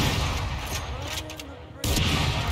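Heavy gunfire from the Operator sniper rifle in Valorant, a loud booming roar that dips briefly before a second sharp, abrupt blast strikes near the end and rings on.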